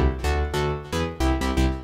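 A deep synthesized bass plays a short line of sustained notes with distinct steps between them, loud and close with no other sounds.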